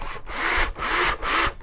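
Hole saw cutting into a plastic bucket, three loud, harsh grinding bursts in a regular rhythm separated by short pauses, close up and with no voices.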